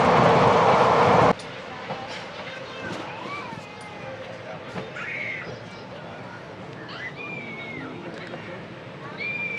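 Indian express train 17249 Tirupati–Kakinada running at speed near Narsapur junction: a loud rushing roar for the first second, then a lower steady rumble with scattered birds and crows calling over it.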